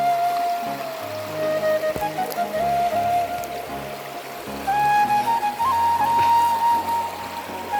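At a picnic, running water splashes and trickles steadily while a knife is rinsed under it, close by and continuous, with faint tonal sounds in the background.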